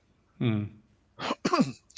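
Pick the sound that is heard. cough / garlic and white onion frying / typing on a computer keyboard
cough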